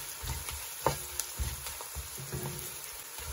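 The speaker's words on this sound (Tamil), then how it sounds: "இப்ப இந்த வெங்காயம் வந்து வதங்கி கொண்டு வருது பாருங்க." Steady frying sizzle of onions in oil and ghee for biryani, with occasional stirring scrapes and clinks, close by and moderately loud, no voices.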